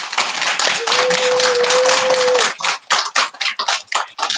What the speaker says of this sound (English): Right, give them a clap.